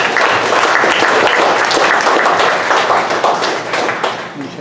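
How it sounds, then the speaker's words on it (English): A large audience at a Dallas startup pitch event breaks into loud, dense applause, a full-room roar of clapping that holds steady and then begins to taper off at the end. "give him a big round of applause"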